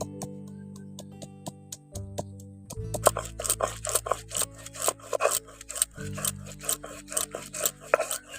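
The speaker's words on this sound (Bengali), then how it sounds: "এবার আমি বেটে নিচ্ছি আদা আর রসুন।" Ginger and garlic are ground into paste for a Bengali lentil recipe, making close, rhythmic rasping and rubbing strokes that repeat steadily, gritty and fairly quiet.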